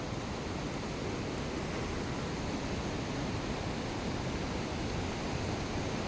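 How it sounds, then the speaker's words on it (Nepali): A riverside waterfall pours in a steady, dense rush of water, constant and unbroken, filling the space without any voices. "ठिक्क नदी किनारको झरना छ साथीहरु"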